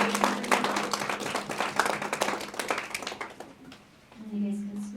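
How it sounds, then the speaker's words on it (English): An audience at a middle school spelling bee claps for two contestants, a dense, close round of applause that fades out after a few seconds as voices carry over and continue. "let's give them a round of applause"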